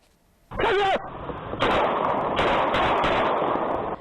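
A couple of sharp, loud police gunshots ring out at night in Zuoying, Kaohsiung, the first brief, then a longer sustained blast of noise.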